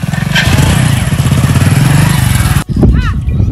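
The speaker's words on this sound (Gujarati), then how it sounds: "સાહેબ જલ્દી બાઇક ચાલુ કરજો" A nearby motorcycle engine runs loud with a rhythmic putter that rises and falls with the throttle, cuts out briefly, and resumes while someone speaks over it.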